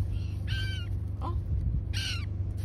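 Crows squabbling over bread by Lake Lolog in Patagonia let out two loud, harsh caws, one early and one near the end, with a brief softer call between them over low steady background noise.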